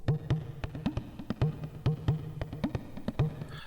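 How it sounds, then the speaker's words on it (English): A quiet 88 BPM drum loop for a trap-style beat repeats steady kick and snappy percussive hits in a tight, even rhythm. "it's just this little drum loop"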